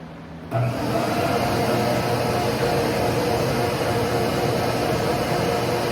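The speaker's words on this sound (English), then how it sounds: "let's turn on the vacuum" A vacuum cleaner working as a router dust collector in a woodworking shop switches on abruptly and runs as a loud, steady, broadband whoosh until the end.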